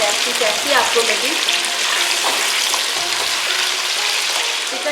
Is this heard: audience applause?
no